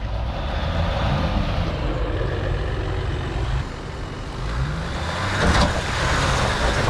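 A Jeep Gladiator truck grinds up a snowy mountain trail, its engine a low, steady rumble with rough crunching from the tires, loud and continuous with a brief dip midway.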